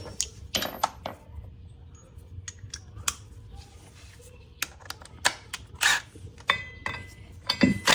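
Tools being gathered for removing the secondary clutch on a 2012 Polaris 400 HO: sharp metallic clicks, clanks and rattles come in scattered bursts with quiet gaps between them.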